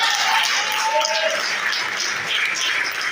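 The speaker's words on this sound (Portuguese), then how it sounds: "Se isso faz sentido para você, dá um forte aplauso para ele." A church congregation gives a strong, steady burst of applause that stays loud and dense throughout, with a few voices faintly audible at the start.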